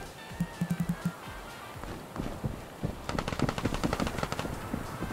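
Automatic rifle fire in the video game Contractors Showdown: a short rapid burst at first, then sustained rattling bursts that grow denser toward the end, close and loud, with no talking.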